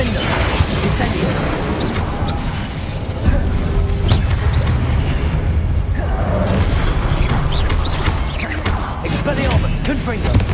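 Confringo spell blasts in Hogwarts Legacy combat: dense, continuous booming impacts and crashes pile up without pause, loud and close, with magical battle noise filling the whole stretch.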